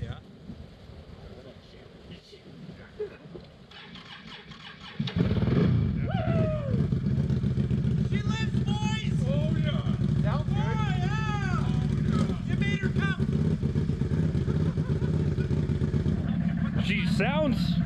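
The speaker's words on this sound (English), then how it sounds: "And then we're gonna bump that starter and just bump it." Custom 2020 Can-Am Renegade XMR ATV engine cranking and catching after being submerged, then settling into a loud steady idle up close, with people talking over it.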